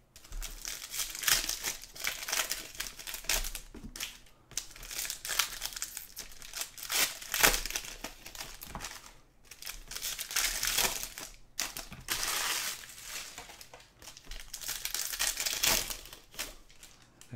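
Foil wrappers crinkle and tear loudly in repeated bursts as 2019-20 Contenders basketball hobby card packs are ripped open one after another, close up with hardly any talk.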